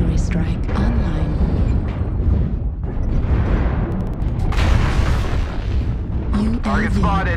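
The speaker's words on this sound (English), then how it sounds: "Artillery strike online." Booming artillery strike in a video game, a run of heavy rumbling blasts and crackling bursts that fill the whole stretch, with a voice talking over them.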